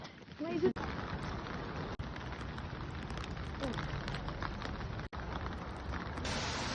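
Heavy rain pours down in a dense, steady hiss on a street in Korea, drumming on a surface throughout with a few brief dropouts.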